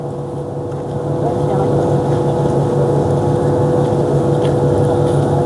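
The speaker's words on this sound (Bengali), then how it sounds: "বিভিন্ন ট্রলার, বিভিন্ন যাত্রী নেওয়ার জন্য তারা যাত্রী নামিয়ে এখন আবার তাদের গন্তব্যস্থানে যাওয়ার চেষ্টা করছেন" Passenger trawler boats on a river near Tongi put out a continuous, fairly loud motor drone that holds steady throughout, with no clear speech above it.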